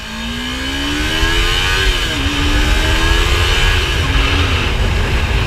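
A 2015 Yamaha R3 motorcycle engine accelerates hard, its rising whine broken by a gear shift before it climbs again. The sound is loud and close, with wind noise and no talking.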